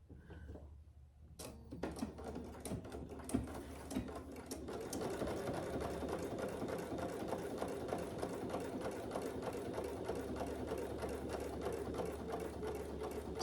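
A sewing machine stitches a clutch bag: after a few sharp clicks and short starts, the motor settles into a continuous fast, rattling whir that runs steadily and fairly close, without speech.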